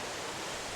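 Steady broadband roar of rushing water at the Argyle waterfall in Tobago, a continuous close wash of falling water with no break and no voices.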